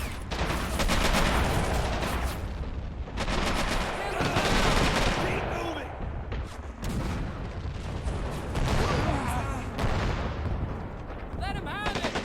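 Heavy gunfire and explosions rage across a World War II Iwo Jima battle in Men of War: Assault Squad, with dense rifle and machine-gun bursts, booming blasts and sporadic voices over a loud, continuous battlefield din.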